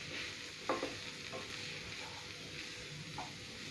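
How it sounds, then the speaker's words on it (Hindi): Grated cauliflower is stirred in a pan over a soft, low frying hiss, with a few brief spoon scrapes against the pan heard close by. "मिक्स करेंगे इसको अच्छे से।"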